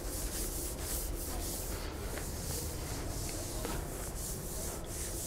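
Duster or cloth rubbing writing off a classroom board, a steady scratchy scrubbing with rhythmic back-and-forth strokes, close and continuous with no talk.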